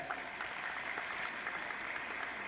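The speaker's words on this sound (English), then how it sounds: "You can clap for that." A conference audience clapping in a brief, steady burst of applause, many hands blending into a continuous wash with no voices over it.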